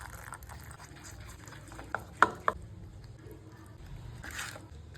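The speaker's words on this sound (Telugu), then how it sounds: "ఫైనల్ గా పెరుగు పోసుకొని మసాలా కలుపుకొని రొయ్యలకైతే పూసుకుందాం" Masala is mixed with yogurt and rubbed onto prawns for tandoori, giving soft, close, wet stirring and squishing with a few sharper clicks of a spoon against a bowl over a low steady background hum.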